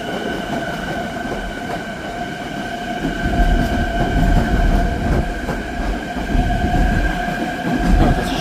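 An M9 commuter train with a full 12-car set rumbles close by as it pulls away from Babylon station, with a steady electric whine and low rolling wheel noise slowly building.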